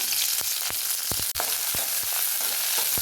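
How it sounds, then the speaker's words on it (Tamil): Perandai (adamant creeper) sautés in a pan with a dense, close hiss and crackle, punctuated by regular clacks of a spoon stirring against the metal. "இந்த பிரண்டை வதக்கலாம்"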